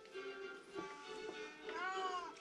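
A house cat meows several times indoors, drawn-out plaintive calls at moderate volume with a faint voice in the background.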